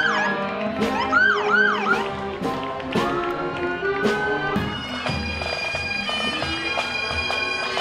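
A volunteer ambulance's wailing siren rises and falls during a Fourth of July village parade, over a busy mix of band music and street noise, loud and close, steady throughout.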